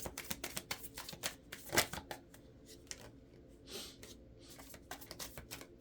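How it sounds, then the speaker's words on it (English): A deck of tarot cards is shuffled by hand, producing a run of dry, irregular riffles and flicks at close range, with one sharper snap partway through and no talking over it. "Let's shuffle through one more time."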